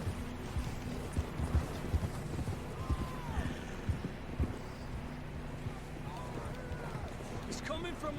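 Horses galloping in Red Dead Redemption 2: a steady run of clip-clopping hooves with an occasional whinny over a low rumble, while people talk throughout.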